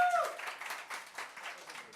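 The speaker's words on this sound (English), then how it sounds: "Round of applause for our volunteers." Brief scattered clapping from a small group, uneven and fairly close, opening with a short whistle-like tone before the claps.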